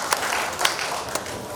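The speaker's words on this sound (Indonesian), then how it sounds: "Tepuk tangan untuk beliaunya ini." An audience at a community discussion gathering in Malang applauds in a short burst of clapping, with a few sharper claps standing out over a dense, continuous patter.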